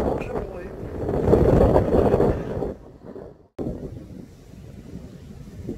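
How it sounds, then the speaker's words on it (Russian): Strong gusty wind in the hills of Provence roars and buffets the microphone, loud for a few seconds, then briefly drops out before the rushing resumes more softly. "Как ветрище задувает, боже мой."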